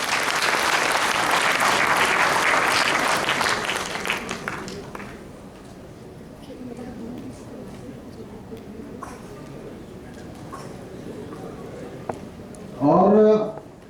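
Loud applause from a large seated audience at a health and diet camp in Jaipur, a dense wash of clapping for about four seconds that fades into quieter room noise with brief voices.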